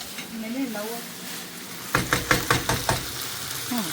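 Dragon chicken frying in a pan, with a run of quick clattering stirs and knocks of a utensil against the pan over a soft sizzle, and a voice briefly heard before and after.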